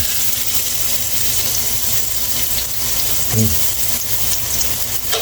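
Garlic frying in hot cooking oil in a home kitchen, a steady broadband sizzle running throughout with a brief clink near the middle, and faint voices in the background.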